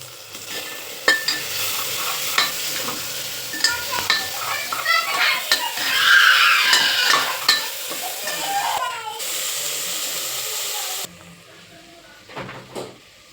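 Cashews sautéed in a pan for masala rice give off steady sizzling and frying, along with stirring scrapes and clinks of a utensil against the pan. The sound stays close and fairly loud, then drops away near the end.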